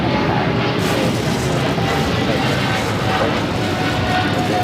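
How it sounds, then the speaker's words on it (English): Cathay Pacific Boeing 777 taking off from the south side at LAX, a steady broad engine roar heard from a distance with wind noise across the microphone. "We do have a 777 taking off here on the south side"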